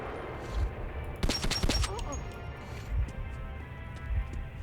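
Rapid bursts of gunfire ring out in the video game Metro 2033, a tight cluster of sharp shots in the middle of the clip with lighter cracks around it, set over a steady low ambient rumble.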